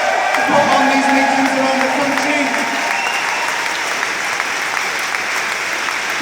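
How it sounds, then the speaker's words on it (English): A large audience at a political meeting applauds and cheers for volunteers, sustained dense clapping with whoops rising over it. "Can you also give a massive cheer for all the volunteers who are working day and night to put on these meetings around the country?"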